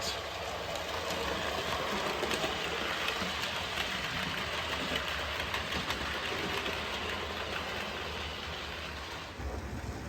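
Model railway trains run along the track with a steady, close rolling rumble and whir that holds for about ten seconds and eases slightly near the end.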